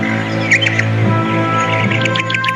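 A bird in an animated Hindi moral story chirps in quick bright tweets over a sustained musical background, several short calls clustered near the start and toward the end, fairly clear and close.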